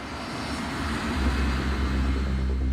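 KLM jet airliner accelerating down a runway for takeoff, a broad roaring rumble that swells and deepens as power builds, heavy low-end thrust with a faint steady whine above it.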